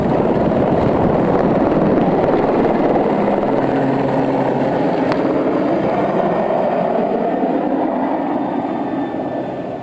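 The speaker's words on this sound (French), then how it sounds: "Nous utilisons des hélicoptères." A helicopter drones steadily with a broad rumbling whir throughout, fading slightly toward the end.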